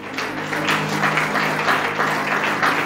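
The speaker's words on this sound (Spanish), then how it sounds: "Dale un aplauso al Señor Jesucristo." A church congregation claps in a rhythmic, pulsing pattern over a low sustained tone, moderately loud and close, with no talk.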